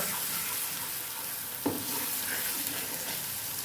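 Ingredients being stirred and mixed in a small bowl while cooking a quick snack recipe, a steady soft scraping and swishing that runs continuously, close and fairly quiet, with one brief clink.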